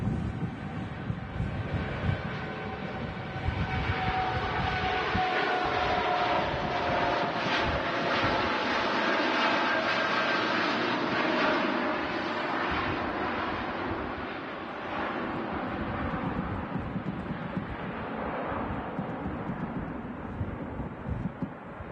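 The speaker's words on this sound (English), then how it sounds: "gear going up nicely there on a TUI Dreamliner" A TUI Boeing Dreamliner jet takes off at Manchester Airport, a sustained engine roar with a whining tone that gradually fades as it climbs, heard from a distance with some wind buffeting and no talk.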